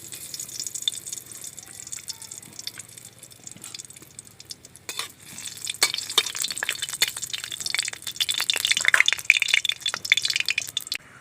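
Whole garam masala and bay leaves hit hot oil in a kadai, a soft crackle at first that grows into a denser sizzle with scattered pops, alongside faint utensil clinks.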